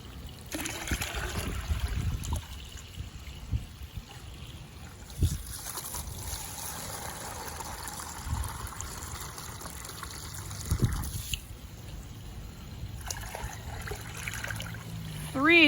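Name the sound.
water poured from medium container into big container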